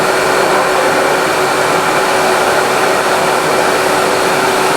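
A vinyl record cleaning machine shown at the High End Munich 2022 audio show blows a loud, steady broadband whoosh of air as it dries a record, running unbroken and close throughout.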